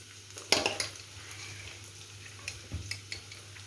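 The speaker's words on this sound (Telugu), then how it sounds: "ఇప్పుడు మనము దీంట్లోకి చికెన్ పీసెస్ వేసేసుకుందాం" Chicken pieces dropped into a frying pan with a clatter of utensil against metal, followed by a steady low sizzle and a second softer scrape and stir.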